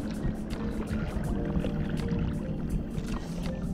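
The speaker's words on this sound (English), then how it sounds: "let's just try some side paddles" An 11'6" stand-up paddle board is worked with side paddle strokes on open water, with continuous splashing and sloshing and repeated rhythmic dips of the blade close by.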